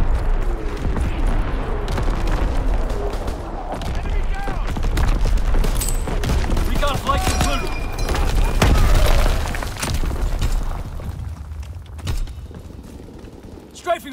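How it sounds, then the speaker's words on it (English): Heavy artillery barrage in Call of Duty: WWII, a dense wash of rumbling booms and cracking blasts rolling continuously with loud low-end thunder, a radio voice calling out under the bombardment. "Firing division artillery."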